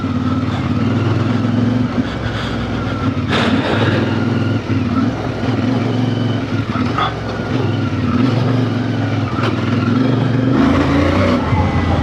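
A 2026 CF Moto IBEX 450 small-displacement motorcycle ridden off road, its engine droning steadily and loudly close by for the whole stretch, with small shifts in pitch as the throttle changes and no voices.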